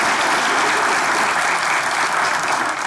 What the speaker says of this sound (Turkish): Çetin Hanım ve Yeşim Hanım'a alkışlar efendim.